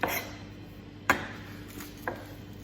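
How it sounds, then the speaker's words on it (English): Three sharp knife chops on a board, spaced about a second apart, fairly close and crisp against a quiet room. "Okay, chopping."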